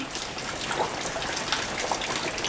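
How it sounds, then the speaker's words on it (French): Steady rain falls on a home garden with tomato plants, a dense hiss of drops on leaves and surfaces, even and fairly quiet throughout, with no voices. "Et là, il pleut."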